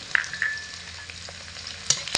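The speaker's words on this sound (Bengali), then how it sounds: "এবার ভালো করে নাড়াচাড়া করে গাজর আর বিনস ভেজে নেব।" Diced carrots and beans fry in oil while being stirred, giving a soft sizzle close by with a few scraping clinks of a utensil against the pan over a couple of seconds.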